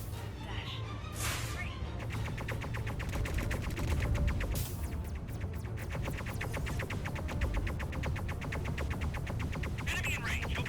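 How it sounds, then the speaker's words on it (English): Rapid automatic gunfire in the Underspace space combat game, a dense sustained fusillade of closely spaced shots running throughout at moderate loudness, with a couple of sharper bursts. "Enemy in range, opening fire."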